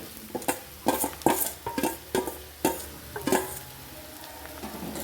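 A spoon stirs mashed potato into spiced vegetables in a pan, giving repeated scraping and clattering strokes at an irregular rhythm over a faint frying sizzle.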